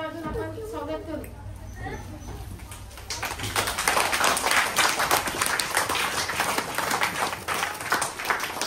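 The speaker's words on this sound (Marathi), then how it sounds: "त्यांचे 3 टाळ्या वाजून आपण स्वागत करू" A seated audience at a welcome gathering bursts into dense, close applause after a voice finishes speaking. The clapping runs steadily to the end of the clip.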